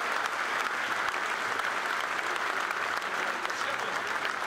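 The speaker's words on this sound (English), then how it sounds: "All of them deserve your warmest round of applause." Warm, sustained applause from a dinner audience at a fundraising event, a thick continuous wash of many clapping hands, even in level and somewhat distant, running for the full four and a half seconds.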